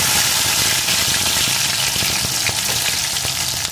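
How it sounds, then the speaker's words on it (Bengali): Whole garlic cloves fry in hot oil with spices, a loud, dense and steady crackling sizzle heard up close with no pauses. "এখন রসুনের কোয়াগুলো একটু ভেজে নেব।"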